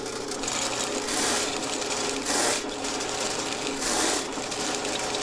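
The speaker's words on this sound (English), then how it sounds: "all we're doing is just trying to get it as clear as possible with our sewer machine" A sewer machine cable fitted with a smaller cutting head spins inside a drain pipe, giving a steady, close grinding whir with periodic louder surges roughly every one and a half seconds.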